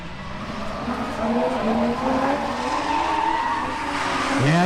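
A BMW E46 drift car at a drift competition skids with a long, loud, wavering tire squeal over engine roar, the pitch sliding and bending until a sharper screech at the end.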